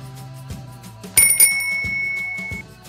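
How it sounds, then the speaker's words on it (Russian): A bicycle bell rings, with a bright metallic ring struck twice in quick succession and a shimmering tone that lingers, heard alone over soft cartoon background music. "Велосипед."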